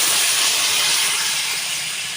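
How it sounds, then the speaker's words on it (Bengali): Curry broth with taro and rohu fish boils in a pot, giving a loud, steady hiss for about two seconds that fades slightly toward the end. "ঝোলটা ফুটে গেছে"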